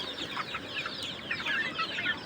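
A small flock of desi chickens with chicks about eight to ten days old cluck and peep softly and continuously on a hot late afternoon, with overlapping calls at moderate distance.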